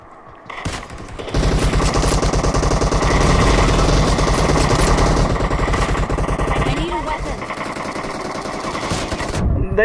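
Loud, dense gunfire from a sniper rifle in the BGMI battle-royale mobile game, with sustained bursts of shots and impacts filling nearly the whole stretch after a quieter opening second.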